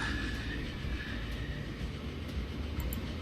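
A dark-painted night train in the Transport Fever game rolls along with a steady, continuous low rumble and faint rail clatter, unbroken throughout.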